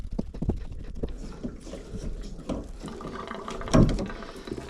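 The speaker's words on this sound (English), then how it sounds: "Hear that water gurgling." Water gurgling through a pipe behind a shower wall, a low irregular bubbling and trickling with uneven surges and one louder gulp near the end, fairly faint and close, with no voices.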